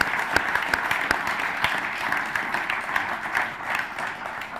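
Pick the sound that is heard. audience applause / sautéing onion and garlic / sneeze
audience applause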